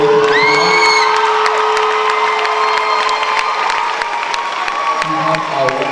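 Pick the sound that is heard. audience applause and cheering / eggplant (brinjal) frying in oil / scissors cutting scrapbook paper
audience applause and cheering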